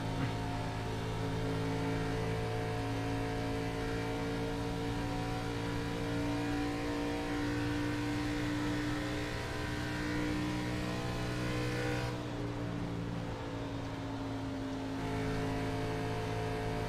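NASCAR stock car engines at Michigan in iRacing, including a classic Coca-Cola car, drone as a steady loud harmonic roar for the whole stretch, rising and falling slightly in pitch as the cars run together, with no talking.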